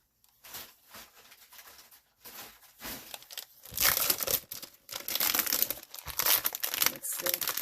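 Plastic-wrapped package of Dollar Tree craft paper sheets being torn open, with loud, close crinkling and rustling that swells partway through and carries on to the end.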